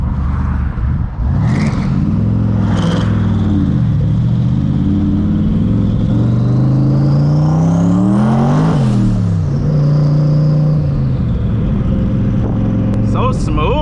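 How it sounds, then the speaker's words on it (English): A 900-horsepower turbocharged SVT Cobra running hard on the road, its engine droning loud and steady with rising and falling revs and a high turbo whistle sweeping up and back, the car close and continuous throughout. "That turbo whistle, man. Oh, it's so freaking loud. This thing sounds gnarly."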